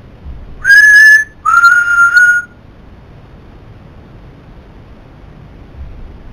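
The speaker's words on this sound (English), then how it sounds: "Do you like a whistle? Copy me." A person whistles two clear, sustained notes, the first steady and the second slightly lower, each about a second long, close and loud against a quiet room with near silence afterward.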